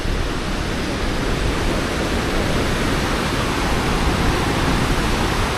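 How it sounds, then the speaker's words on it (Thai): Waterfall on the Bolaven Plateau in Laos, heard as a steady, dense roar of falling water that holds loud and even throughout with no voices. "น้ำตกที่ลาวครับ"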